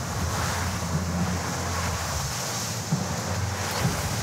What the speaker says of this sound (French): Il y a une belle vague, hein.